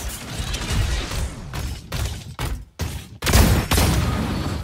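Rapid bursts of gunfire in the mecha battle game Super Mecha Champions, dense crackling volleys broken by short gaps, with mechanical clanks and a heavier blast near the end.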